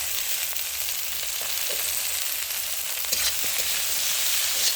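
Chopped flat beans fry in a pan with a steady, dense sizzle that holds the whole time, broken by a few light clicks from a utensil.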